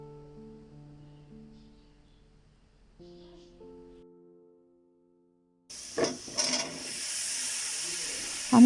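Spices hiss and sizzle as they are fried in a pan for a Bangladeshi rohu fish and calabash curry, a steady sputtering sizzle that starts abruptly after a quiet stretch of faint music.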